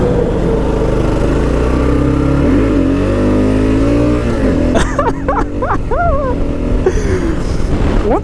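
A 2015 Kawasaki KLR 650 single-cylinder motorcycle ridden through small wheelies, its loud close engine rising and falling through revs and gear changes, with wind noise and a brief voice-like whine near the end.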